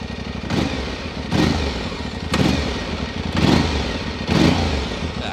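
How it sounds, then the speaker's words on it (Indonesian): An Aprilia Tuareg 660 two-cylinder motorcycle engine from 2022, revved repeatedly while standing, with five deep throttle blips rising over a steady rumbling idle, close and loud, with no talking. "Nah, suaranya kurang lebih seperti ini, khas sebuah moge, walaupun dia 2 silinder."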